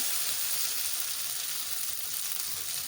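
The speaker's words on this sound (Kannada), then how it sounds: "ಈಗ ಹತ್ತು ನಿಮಿಷ ಬಿಟ್ಟು ಫ್ರೈ ಮಾಡ್ತಾಯಿದ್ದೀವಿ" Seer fish (anjal) frying on a tawa over low flame gives a steady, loud, dense sizzle that holds unbroken throughout.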